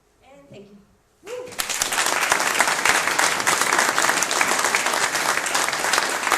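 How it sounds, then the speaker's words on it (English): A brief spoken bit gives way to loud, sustained applause from a large audience, many hands clapping steadily until the end. "Yeah, big round of applause."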